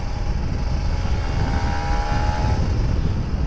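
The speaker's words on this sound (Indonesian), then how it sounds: "Ntar gue di pinggir gue geber dulu" An older Kawasaki Ninja RR 150 motorcycle engine drones and revs nearby, a continuous rumbling roar with a slight rise in pitch midway, no talking.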